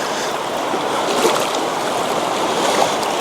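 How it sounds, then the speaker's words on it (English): A high, fast-running river swollen by thaw and rain rushes steadily nearby, a dense, continuous wash of moving water with no voices. "It's running a little fast for my liking down here"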